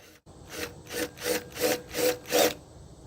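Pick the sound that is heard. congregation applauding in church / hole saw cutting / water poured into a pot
hole saw cutting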